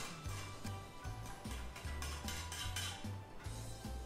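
A spoon stirs mango whey protein powder in a bowl, producing a steady rhythmic series of light scraping clinks, close and fairly quiet, with no talking.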